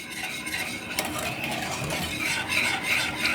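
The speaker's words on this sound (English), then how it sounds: "you want to continuously stir this until it thickens" A whisk stirs gluten-free eggnog mixture in a pot on the stove, giving a steady, continuous scraping swish with light metallic clinks against the pot, close and alone.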